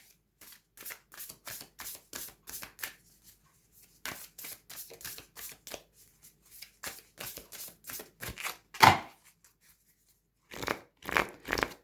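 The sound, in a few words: shuffling tarot cards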